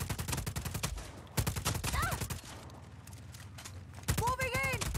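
Gunfire in Just Cause 4, rapid rattling bursts of automatic shots, loud and close, broken by short pauses while voices talk over the shooting.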